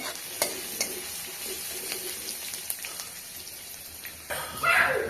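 Mustard seeds, cumin and garlic go into oil for a thin poha chivda, a close sizzle with scattered crackles and stirring knocks, swelling into a louder hissing burst near the end.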